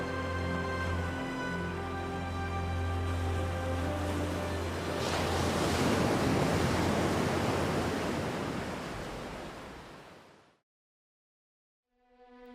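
Ocean waves breaking against a rocky Portuguese coast, a broad, loud roaring wash that swells over several seconds, accompanied by music, before cutting off abruptly.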